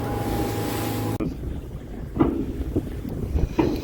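A fishing boat heads back through choppy water in rising wind off North Island: steady engine drone and heavy wind buffeting on the microphone, then quieter hull slaps and splashes.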